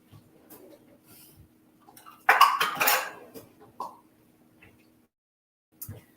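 Metal kitchen utensils and dishes clatter in a short burst as someone digs through a drawer for a measuring cup while making pizza, framed by quiet stretches and a faint knock near the end.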